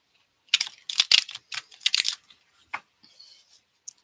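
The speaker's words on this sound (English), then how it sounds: "We're going to shuffle." Quick bursts of papery riffling and soft taps as tarot cards are shuffled, several shuffles in a row with short pauses between, close and fairly quiet, no talking.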